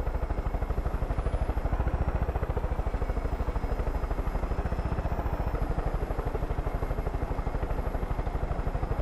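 Helicopter in Far Cry 5 with a steady, fast rotor chop and engine drone, loud and continuous throughout with no voices.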